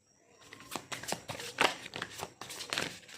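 Tarot cards shuffled and drawn by hand during a reading, a run of soft papery snaps and riffling flicks, close and fairly quiet, with no voice.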